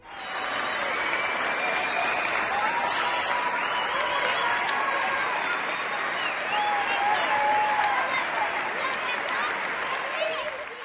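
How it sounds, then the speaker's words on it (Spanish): A live studio audience on a Spanish broadcast gives real, uncanned applause: a thick, even roar of many hands clapping nonstop for about eleven seconds, with scattered cheers rising above it. "Esto que están ustedes escuchando no son aplausos enlatados, no."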